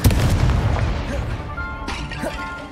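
A booming burst of a fire spell cast in Hogwarts Legacy, loud and rumbling at the start, then fading into crackling flame and lighter pops.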